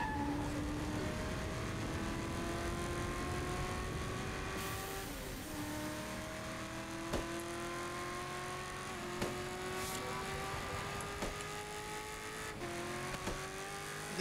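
Car engine in the Saints Row 3 video game revving and pulling away, a steady rising whine through the gears with shifts, loud and continuous, with occasional small knocks and no talk.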